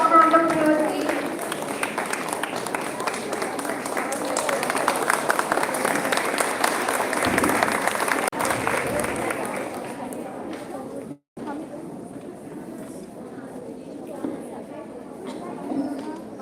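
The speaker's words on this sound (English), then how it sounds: "Let's give a warm round of applause, please." An audience at a live storytelling event claps in a dense, lively round of applause that fades after several seconds into quieter room sound, with speech heard around it.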